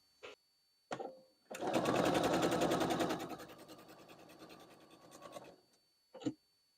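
A sewing machine stitches the corners of a quilt block in one loud, steady run of about four seconds. Single clicks and handling knocks come before and after the stitching.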